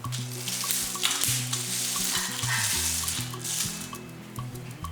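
Seeds dry-roast with a little salt in a pan, a soft rustling, scraping hiss as they are stirred, under steady tonal background music.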